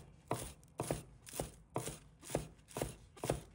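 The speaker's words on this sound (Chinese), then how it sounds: "把葱叶切成葱花。" A knife chops scallion leaves on a board in seven even, crisp strokes about half a second apart, close and clear, with no voices.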